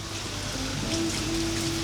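Heavy rain falls steadily in a soft, even wash of noise with no breaks, heard alone without any voices.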